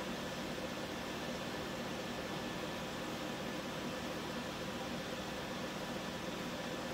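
A homemade pulse motor runs under heavy load while charging a capacitor bank, giving a steady, even mechanical hum and whir at moderate level with no pauses or voices.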